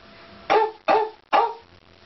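A girl imitates a dog, giving three short, loud barks spaced evenly about half a second apart, alone with nothing else in the background.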